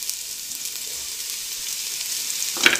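Onions and thinly sliced leeks sweat in a pan for minestrone, a soft steady sizzling hiss with a brief clatter of stirring near the end, no speech.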